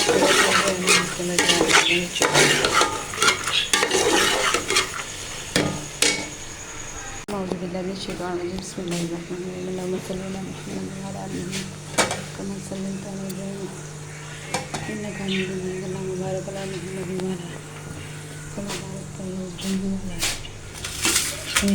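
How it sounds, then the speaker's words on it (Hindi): Chana dal fries in a pot, with a sustained sizzle and frequent stirring scrapes and metallic clatter of a spoon against the pot, while a person talks over much of it. "दाल डालने लगी कुछ हमने डाल दी है, ये भी डालने लगी है और इसको करेंगे फ्राई"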